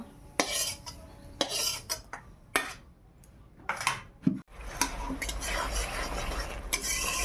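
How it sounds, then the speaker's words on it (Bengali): A metal spoon scrapes and clanks against a pan while chutney is stirred on a gas stove, in irregular bursts, with a steady frying hiss building beneath in the second half. "চাটনিটা করে নেই গ্যাসে"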